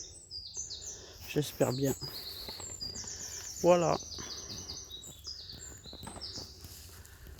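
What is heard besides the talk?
birds singing in a garden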